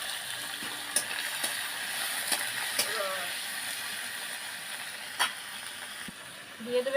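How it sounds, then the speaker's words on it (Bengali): Shrimp frying in hot mustard oil gives a steady broadband sizzle that carries through the whole stretch, with a few sharp pops and crackles standing out at intervals. "তেলটা আমার গরম হয়ে গেছে, আমি চিংড়ি মাছটা ছেড়ে দিয়ে দেবো।"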